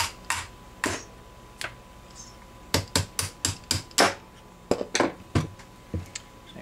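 Sharp metallic taps ring out as a pin is driven from a Husqvarna 1870 rolling block rifle during disassembly, about fifteen close, crisp strikes in uneven clusters with no talking.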